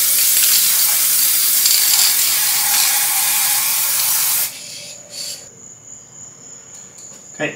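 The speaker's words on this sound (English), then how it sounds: "I will need to spray it with some of this scanning spray" A loud, continuous hiss of aerosol 3D-scanning spray lasts several seconds, then cuts off abruptly, leaving quiet with a few faint clicks and a thin high tone.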